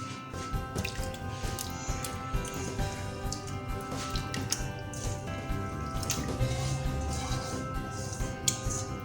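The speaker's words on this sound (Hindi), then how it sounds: "इस पानी में चिकन को डाल दें।" Chicken pieces go into a pot of water for a steam roast, giving soft wet drips and squishy splashes that continue over a steady background hum.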